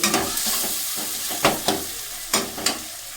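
Ground spices for a cauliflower curry sizzle in hot oil in a pan, with a steady frying hiss and a few sharp scrapes of a spoon as they are stirred, close and without speech.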